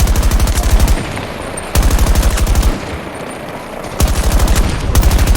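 Sustained bursts of rapid light machine gun fire in Battlefield 2042, loud and close, three long strings of shots separated by brief pauses of quieter ambient noise.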